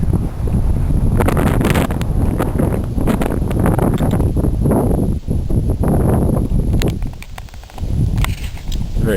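Strong wind on an Appalachian Trail ridge in Connecticut buffets the microphone with a loud, continuous roar and rumble, with rustling gusts rising and falling throughout and no talking.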